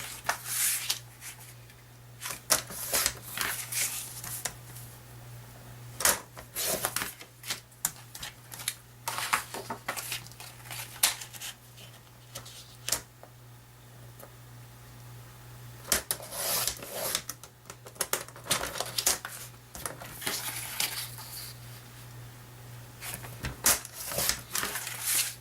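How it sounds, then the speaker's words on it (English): Green paper cut into 3¼-inch squares for a handmade frog card, repeated close crisp cutting and sliding sounds in bursts separated by quieter handling pauses, with a low steady hum throughout. "I'm going to cut this at 3 1/4 by 3 1/4 inch squares"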